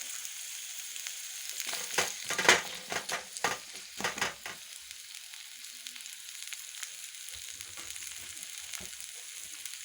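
Potatoes fry in a nearly dry pan, with a steady sizzle broken by a cluster of sharp stirring scrapes in the first half that fade back to a quieter hiss.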